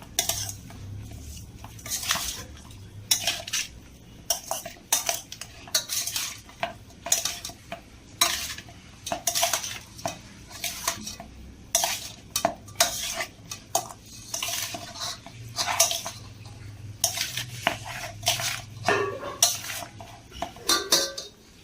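Potato and egg pickle, Nepalese style, is mixed in a bowl with a spoon, producing repeated rhythmic clinks and scrapes of metal against the dish over a faint background hum.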